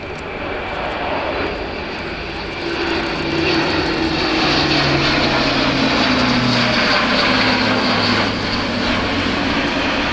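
A Royal Air Force Airbus A400M Atlas military transport flies overhead at an airshow, its turboprop engines giving a loud, continuous drone that swells slightly and holds steady, with no voices.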